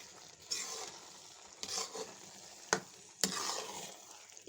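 Grated pumpkin halwa frying in ghee in a pan, a quiet bed of sizzling broken by repeated scraping and stirring strokes and a couple of sharp clicks from the spoon, no voices.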